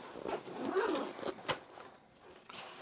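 A zipper pulled along a 45 liter travel bag that opens like a suitcase, quick close rasping strokes with brief pauses, fairly quiet.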